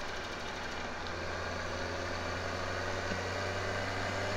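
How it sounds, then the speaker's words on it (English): A tractor engine idles in the farming game Farming Simulator, a steady, even mid-low hum with a faint rhythmic throb, close and continuous with no talk. "Great little tractor, this."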